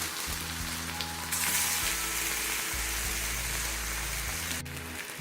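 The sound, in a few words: banana slices frying in ghee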